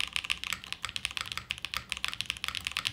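Rapid typing on a custom mechanical keyboard called The Martingale, crisp clacky keystrokes in a steady fast patter, close and fairly quiet, with no talking.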